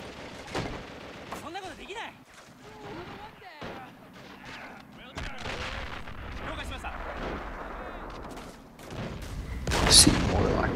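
Mortar and artillery fire in the World War II strategy video game Men of War. Distant booms and gunfire thud under steady excited talk, with a louder blast near the end.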